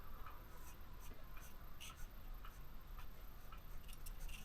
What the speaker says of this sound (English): And then what I'll be doing is drawing in the color here.